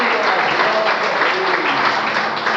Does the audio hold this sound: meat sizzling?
no